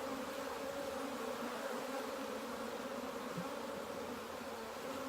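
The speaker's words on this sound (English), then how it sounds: "Real good bee coverage." Honey bees buzzing on a brood frame in an open hive, a dense continuous drone from many insects close by, steady and loud throughout with no talk.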